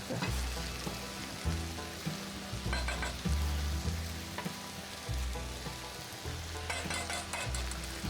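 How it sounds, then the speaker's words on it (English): Garlic and onion frying on a griddle for carne asada tacos, a steady close sizzle and crackle with scraping and stirring clatter across the whole stretch. "let's put that garlic in there"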